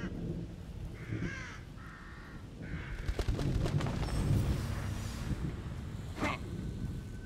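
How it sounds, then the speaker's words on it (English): Crows caw in the horror game The Evil Within, a few harsh calls spaced apart near the start, then a low rumbling ambience swells and one more caw rings out toward the end. "Crows."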